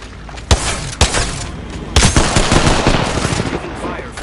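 Automatic gunfire in the Apex Legends battle royale game, loud sharp bursts at the start and around two seconds, then sustained rapid shots and clatter continuing throughout.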